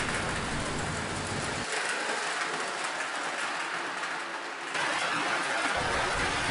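A small Lionel toy model train rumbles and clatters along its track, a continuous mechanical whirring that dips briefly in the middle before picking up again.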